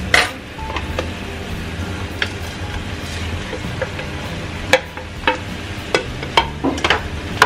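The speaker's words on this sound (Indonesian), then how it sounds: "sekarang masukkan tahu dan terong yang tadi" Tofu and eggplant go into a simmering pan and get stirred, with a soft bubbling bed broken by sharp scrapes and clinks of the utensil against the pan, growing more frequent toward the end.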